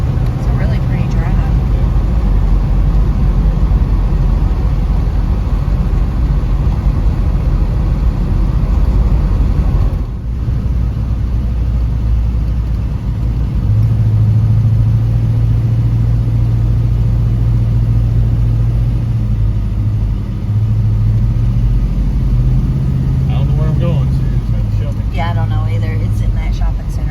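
Inside a 1970 Pontiac GTO on a road trip, the engine drones steadily and loudly with a low rumble and shifting tone as the car drives, and a voice talks over it at times.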